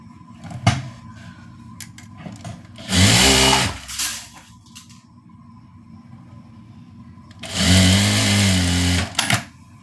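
An electric sewing machine stitches a churidar sleeve seam in two steady whirring runs of about a second and a half each, with handling clicks and quiet pauses between them. Nearby and fairly loud, no talking.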